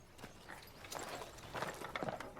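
Horses' hooves clip-clop on hard ground in a period setting of 1800s rural England, a few uneven steps, fairly close and moderately loud, with no talk.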